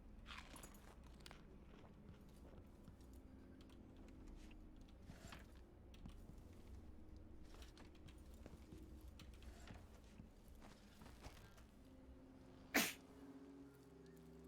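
A single sharp sneeze bursts out near the end, loud against a quiet, steady background of soft game ambience and faint footsteps during a session of a stealth video game set in Karnaca.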